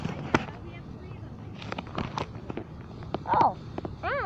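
Fireworks at a fireworks show burst in scattered pops and crackles, with a louder whistling burst near the end, amid background voices and outdoor noise.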